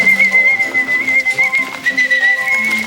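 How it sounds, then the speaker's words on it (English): A sustained, high, steady whistle used to call trained penguins on a film set carries through the whole stretch, loud and close, with fainter tonal sounds beneath it. "What we've trained the birds to do is to come to a call, a whistle."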